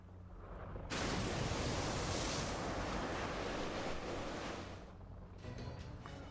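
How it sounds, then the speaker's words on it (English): Raging water surges in a Fate Grand Order video game scene, a sudden loud roaring rush that holds for several seconds and then cuts off into quieter ambience. "Whoa, it's raging waters."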